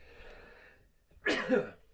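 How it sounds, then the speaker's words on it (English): One close, sudden sneeze bursts out after a faint sharp inhale, alone in an otherwise quiet room. "Oh, I just had to sneeze there."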